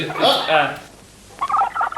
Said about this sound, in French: des bruits de dindon